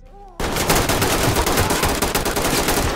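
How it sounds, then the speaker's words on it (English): Loud, rapid automatic gunfire in the tactical shooter game Ready or Not bursts in after a brief quiet moment and continues as a dense, sustained rattle. "I know I shot one because I was getting shot at."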